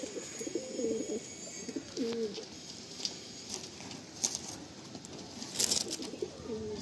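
A female Madrasi pigeon coos in repeated low, throaty phrases close by, while someone talks intermittently over the calls.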